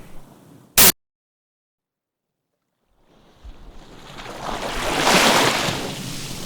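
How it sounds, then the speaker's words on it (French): Wind and ocean waves on a coast: after a sharp click and a silent gap, the surf and wind rise to a loud, broad rushing swell that slowly surges and eases. "C'est le vent, tout le temps, ou quasi tout le temps."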